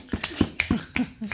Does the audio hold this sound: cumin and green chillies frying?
no